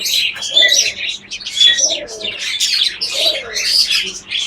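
Domestic pigeons kept in a loft give repeated low rolling coos close by, mixed with brighter chirps from other birds, several calls in overlapping bursts and no speech.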